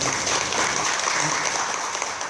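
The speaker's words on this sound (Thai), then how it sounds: "ขอเสียงปรบมือขอบคุณท่านอีกครั้งหนึ่งครับ" An audience claps warmly at a formal Thai gathering, a dense, steady applause lasting the whole stretch with no voices over it.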